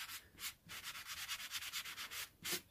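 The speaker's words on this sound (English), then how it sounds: "just again to go over it with a sanding block" A sanding block rubs back and forth over the painted road surface of a model railway layout, taking the shine off the paint in a steady run of close, rasping strokes with short pauses between bursts.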